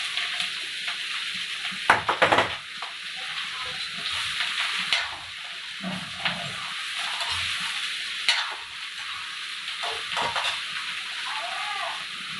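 Sponge gourd frying in hot oil with garlic and chili in a home kitchen, a continuous sizzle punctuated by clanking stirs of a utensil against the pan, with a brief murmur of voice.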